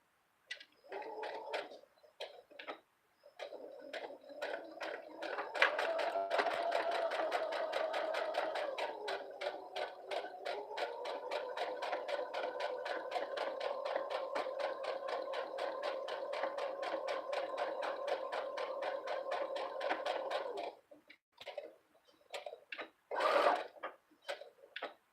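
Sewing machine back-stitching the hem of a fabric pouch, a steady fast mechanical whir running for about fifteen seconds after a few short starts, close and fairly quiet, then stopping.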